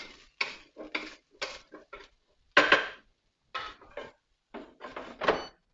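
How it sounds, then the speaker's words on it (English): A spoon stirring tofu into a mix in a bowl, heard as a run of short scraping and clinking strokes against the bowl, fairly close and moderately loud, with brief pauses between strokes and no talking. "Add that in, give it a good stir around so it's mixed up nicely."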